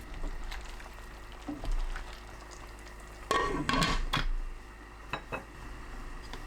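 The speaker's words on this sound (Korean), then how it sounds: "3분 후 골고루 섞은 뒤 뚜껑 닫고 3분 더 놓아둡니다" Braised burdock root is stirred in a pot, with soft clinks and scrapes followed by a louder clatter as the lid is set down, over a quiet low hum.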